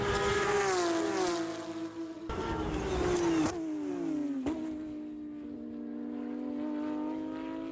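Race cars scream past on the Chuckwalla Valley circuit, their high engine notes sweeping down in pitch one after another as each car passes close, then fading into the distance.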